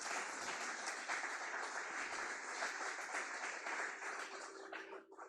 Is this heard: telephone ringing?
no